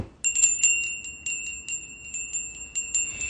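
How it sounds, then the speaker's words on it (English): Small high-pitched bells tinkle in a rapid, shimmering series, bright and close, ringing on continuously with a sustained chime. "Fairy bells. Fairy bells."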